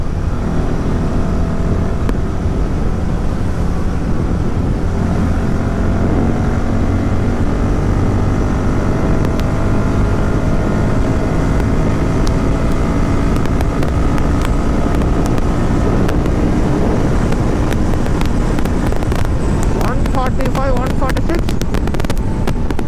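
A Royal Enfield Himalayan 450 motorcycle runs at top speed on the road, its steady engine roar mixed with heavy wind rush buffeting the microphone throughout, loud and continuous.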